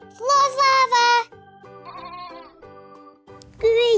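A goat bleats at a farm in loud, wavering cries: three quick bleats in a row, a quieter stretch of softer bleating, then one more loud bleat at the end, with children's voices faintly around it.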